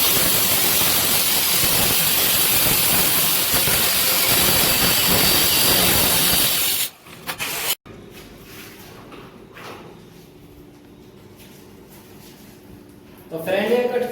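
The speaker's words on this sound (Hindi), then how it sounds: "तो फटाक से हम अपनी धेल काट लेते हैं।" Tile strips cut with a cutter for a doormat design, a loud continuous harsh grinding hiss for about seven seconds that stops abruptly, followed by quieter scraping and a short burst of grinding near the end, with a voice talking in between.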